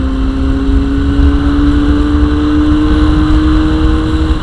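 A small carburetted motorcycle engine runs loud and close near Chepelare, its buzzing note rising slowly as the revs climb, with no voices.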